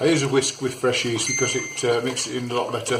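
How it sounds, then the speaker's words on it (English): A phone notification dings a few times in a home kitchen while a yeast dough is whisked by hand. The short bright chimes sit under steady close-up talk. "You have to excuse the phone dinging."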